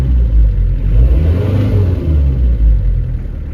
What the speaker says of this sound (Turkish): Bakın yine gaza basıyorum.